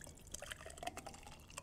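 A frozen non-alcoholic margarita being poured into a glass, giving quiet irregular drips and wet plops close by, with no talking.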